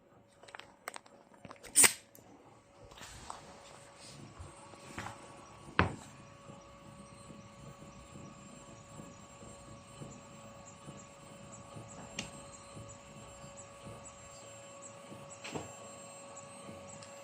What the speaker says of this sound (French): Donc ça grave, on sent la brûlure du bois.